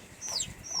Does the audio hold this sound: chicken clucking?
yes